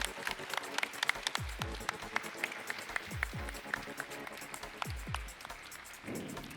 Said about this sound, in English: Round of applause for MALISZEWSKI